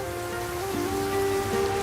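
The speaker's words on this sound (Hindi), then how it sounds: "फिर ये बारिश किसी दिन मरवाएगी।" Rain falls in a steady, even wash, a continuous close patter on surfaces with a faint low tonal hum underneath and no voices.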